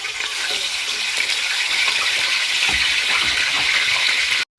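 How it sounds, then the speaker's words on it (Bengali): Chicken pieces frying in hot oil in a home kitchen: a loud, continuous close sizzle with crackling and occasional stirring clatter, cutting off abruptly near the end. "তেল গরম হয়ে গেছে, চিকেনটা দিয়ে দিলাম ভাজার জন্য"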